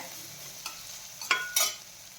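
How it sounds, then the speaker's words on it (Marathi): Garam masala, cumin powder, turmeric and red chili are stirred in hot oil in a pan for samosa filling: faint background sizzle broken by three short, sharp spoon scrapes. "अर्धा चमचा गरम मसाला, अर्धा चमचा जिरा पावडर, थोडीशी हळद आणि मसाले छान परतून घेऊयात।"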